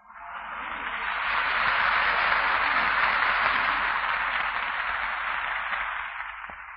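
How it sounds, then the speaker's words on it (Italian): A large crowd at the 1970 canonization of Saint Leonardo Murialdo breaks into long, sustained applause that swells in, holds as a dense roar of clapping, then slowly tapers. "Un applauso interminabile è esploso da tutti i presenti come prima preghiera al nuovo santo"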